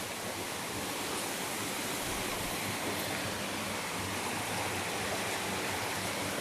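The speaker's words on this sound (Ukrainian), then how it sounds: "А ось це саме цей водоспад." A constant, dense roar of rushing water, like a waterfall heard close up, steady and unbroken throughout.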